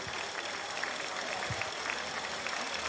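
Crowd at the canoe-kayak sprint world championships in Germany applauding, a steady spread of clapping heard from a distance and fairly faint, continuing throughout with scattered louder claps.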